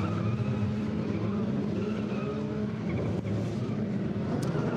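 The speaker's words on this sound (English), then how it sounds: "Now you see they're being very aggressive, getting those tyres up to temperature." FIA F3 European Championship race cars from 2013 weave aggressively to warm their tyres before the start, engines droning steadily with a brief tyre squeal, heard alone without talk.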